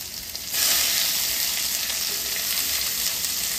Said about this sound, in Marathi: 2 मोठे कांदे मी बारीक चिरून घेतले होते लांब, ते आपण टाकून घेऊयात आणि व्यवस्थित तळून घेऊया।